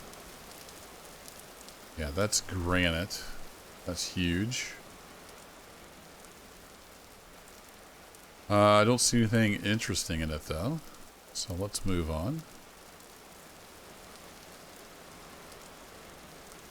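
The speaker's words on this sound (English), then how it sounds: "it was just downpour like this every single day" Steady downpour in the survival video game Vintage Story, a soft continuous hiss of rain running the whole time beneath someone talking in short bursts.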